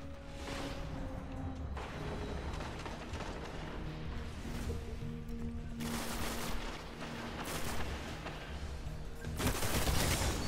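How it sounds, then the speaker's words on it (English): Gunfire, including shotguns, rings out in a Destiny Crucible match: repeated bursts of shots over a busy, constant game soundscape, growing louder toward the end. "I hear shotguns like crazy right now."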